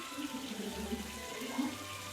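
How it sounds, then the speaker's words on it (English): Water runs softly from a tap in the video game What Remains, a faint steady splashing stream with a low hum underneath, heard alone without voices. "Oh, he wants me to turn the water back on."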